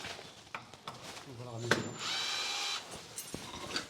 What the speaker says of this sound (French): Donc on dévisse ici. On dévisse de l'autre côté.